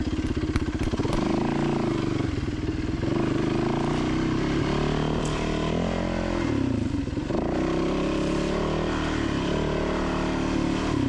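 A dirt motorcycle climbing a rocky mountain trail revs hard over a rock lip, the engine note rising and falling with a quick double throttle blip, loud and close.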